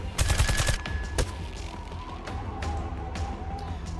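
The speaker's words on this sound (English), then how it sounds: "The gunshot has alerted the enemy, so let's leave quickly." Gunfire from the tactical video game Reverse Collapse: Code Name Bakery, set in desolate snowy mountains: a quick burst of loud, sharp shots in the first second, followed by a single further report, then quieter game ambience.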